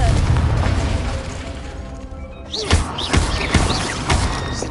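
Confringo blasting spell going off in Hogwarts Legacy, a loud booming burst followed by several sharp crackling pops and bangs in quick succession.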